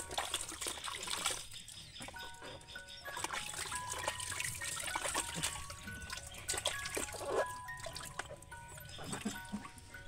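A child splashes and stirs lukewarm bath water, with continuous trickling, sloshing and small splashes close by and an adult voice talking over it.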